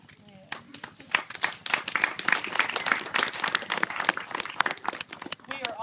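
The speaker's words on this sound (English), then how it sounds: "We are all cheering." Guests at a Christmas party cheer and applaud, their uneven clapping mixed with shouts and voices close to the microphone, rising and falling in bursts before tapering off.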